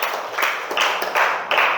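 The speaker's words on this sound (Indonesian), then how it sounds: "beri tepuk tangan" Children in a second-grade Indonesian-language classroom clap hands together in a few loud, close bursts of rhythmic group clapping, each burst separated by short pauses, with no talk over them.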